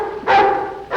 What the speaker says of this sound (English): They've got barking dogs.